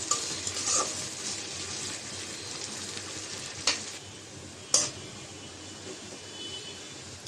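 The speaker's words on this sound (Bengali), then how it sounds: "তো পেঁয়াজটা ভেজে নেব।" Onions sizzling in oil in a kadai for a home-cooked chicken curry: a steady, close, dense frying hiss with two sharp utensil clinks partway through, no voices.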